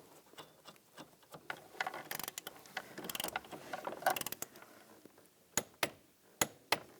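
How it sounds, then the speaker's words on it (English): A ratchet tightens a nut on a 2010-2017 Chevrolet Equinox during heater core replacement, making quick runs of close metallic clicks. A few sharper, spaced clicks follow at the end. "Put the nut on. I'll tighten that down."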